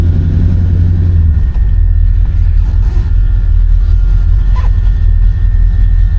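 A 1968 Chevy Impala engine rumbles loud and close, a deep continuous growl with slight swells as the throttle is touched.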